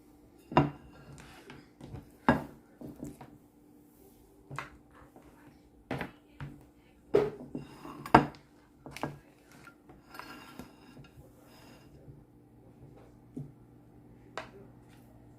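Dishes and utensils clatter while tuna is served onto a small serving dish. Sharp clinks and taps come one after another at an irregular pace, fairly close and moderately loud, with no talking.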